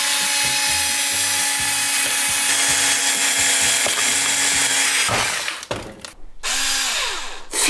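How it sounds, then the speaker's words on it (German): Loud power drill whirring steadily for several seconds, pitch wavering as it bites into an iPhone 12 Pro Max on a table, then stopping and restarting with clatter and knocks nearby. "Vielleicht bohren?"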